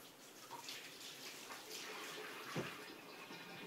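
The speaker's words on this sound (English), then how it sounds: "Wash it up quick." A green pepper is rinsed under a running tap, a steady close splashing of water over the vegetable with no talking.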